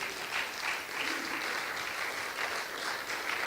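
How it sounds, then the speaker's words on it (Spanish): A church congregation applauding, a steady wash of many hands clapping at moderate distance that holds evenly throughout, with no speech over it. "Démosle una ofrenda de palmas al Señor por eso."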